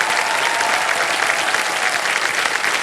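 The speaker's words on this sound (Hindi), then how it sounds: "एक बार जोरदार तालियां बज जाएं इनके लिए।" Loud, dense applause fills a quiz show studio as the audience claps for a contestant, a continuous even burst with no voices over it.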